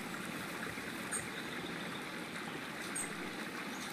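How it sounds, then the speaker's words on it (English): A waterfall pours out of a tree in Eastshade, a soft, steady rush of falling water with a faint trickling shimmer, quiet and continuous with no voices over it. "There's a waterfall coming out of this tree."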